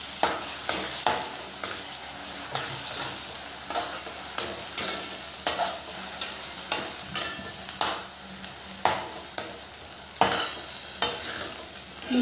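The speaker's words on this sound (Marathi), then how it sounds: "आता मिरची आपण टाकलीच आहे, तर त्याच्यात आपण लगेच मुगाची डाळ टाकणार आहोत. ती तेलामध्ये छान" Moong dal sizzles in hot oil with green chillies while a spoon stirs it repeatedly, giving a steady frying crackle punctuated by rhythmic scraping strokes against the pan, close and clear.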